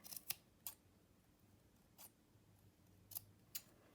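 Scissors trimming loose embroidery threads on a friendship-bracelet wall hanging: five short, crisp snips spaced irregularly, quiet and close, with no talking.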